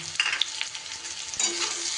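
A brief, steady sizzle of potatoes and onions frying in a pan, with a spoon stirring and scraping now and then.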